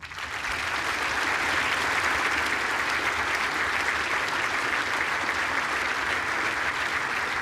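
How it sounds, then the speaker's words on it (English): Sustained applause from a large indoor audience at the presentation ceremony after the ladies' final of the World Indoor Bowls Championship, a dense, steady wash of clapping that holds at full strength throughout. "Ladies and gentlemen, please put your hands together for your presentation party."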